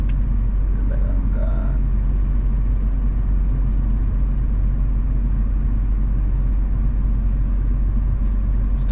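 Steady low engine rumble from inside a car creeping through stop-and-go traffic on Raila Odinga Way toward South C, Nairobi, Kenya, with continuous road and idling noise and no talking.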